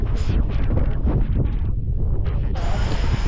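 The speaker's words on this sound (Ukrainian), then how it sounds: "тут трохи вітряно і так холодно прям" Wind buffets the microphone with a steady low roar on the Pacific coast in Olympic National Park, Washington, blending with broadband outdoor noise that brightens sharply near the end.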